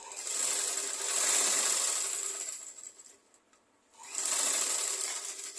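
A sewing machine stitches a seam on a chemise, a fast whirring run that slows and stops briefly before starting again, close and loud with no talking.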